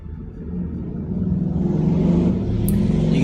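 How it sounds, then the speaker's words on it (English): Motorcycles pass outside a house, a low rumbling engine drone that builds steadily and stays loud and close throughout, with no talking. "You can hear the motorcycles outside my house."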